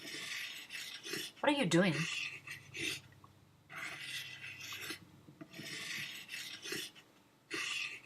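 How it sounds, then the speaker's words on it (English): A spear being sharpened with a file or rasp, giving rhythmic rough scraping strokes in short bursts, close and fairly quiet, with a brief spoken question near the start. "Is he sharpening his spear?"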